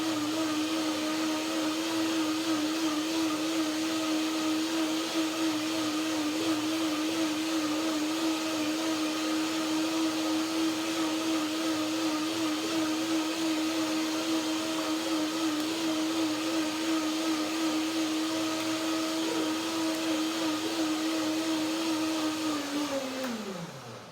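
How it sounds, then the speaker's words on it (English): Blender running steadily on soaked mangoes and macadamia cream, a loud continuous whirring motor whine that holds for over twenty seconds, then winds down and stops at the end. "I do a second blender dance."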